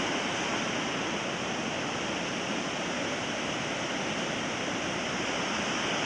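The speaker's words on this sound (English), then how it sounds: "Look at the big waves." Big Pacific Ocean waves surge onto Silver Strand beach in San Diego, a steady broadband roar of surf that fills the whole stretch without pause, fairly loud and close with no voices.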